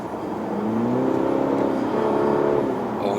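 A Cadillac CT5's 2.0-litre four-cylinder engine hums and rises steadily in pitch as the car accelerates, a smooth four-cylinder drone heard from inside the car.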